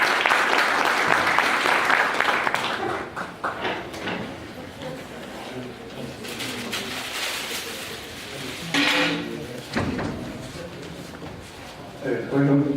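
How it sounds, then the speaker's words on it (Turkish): Applause from an audience at a Turkish seminar, dense clapping that fades into a hall murmur, with someone speaking over it and brief thumps and bursts of clapping later. "Buyurun, buyurun efendim. Alkışlar."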